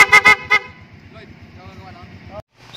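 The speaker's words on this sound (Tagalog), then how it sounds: "So yun naman yung PIAA horn on NS160" PIAA horn fitted to a Honda NS160 motorcycle gives three loud, close, sharp honks in quick succession, followed by an engine idling.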